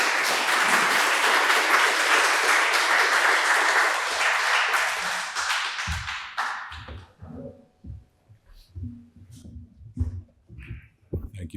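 An audience welcomes speakers to the podium at a keynote conversation with loud, steady applause for about six seconds that fades out, followed by someone speaking.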